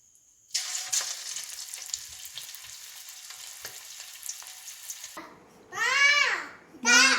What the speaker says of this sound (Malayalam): ഇതുപോലെ ബാക്കിയുള്ളതുകൂടി നമുക്ക് ഫ്രൈ ചെയ്തെടുക്കാം.